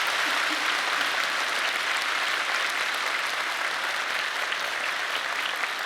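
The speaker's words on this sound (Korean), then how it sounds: "우리 감사하다는 박수를 한번 보내드리기를 바랍니다" A church congregation at a thanksgiving testimony night gives a dense, continuous round of applause, a steady roar of many hands at even loudness throughout, with no voices over it.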